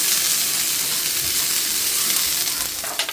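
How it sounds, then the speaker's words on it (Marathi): Masala with tomato sautéing in hot oil in a home kitchen, giving a steady close sizzle and fry crackle that holds level throughout and eases off slightly at the end. "टोमॅटो पण एक ॲड केलं आहे आणि तेलामध्ये छान परतून घेते"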